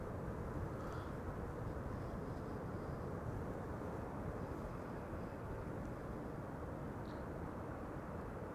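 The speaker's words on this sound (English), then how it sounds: "this is KLM flight 1710, Embraer 175, arriving from Luxembourg" A KLM Embraer 175 airliner arriving at Schiphol from Luxembourg gives a steady, broadband jet roar that holds at an even level throughout, sounding moderately distant with no voices.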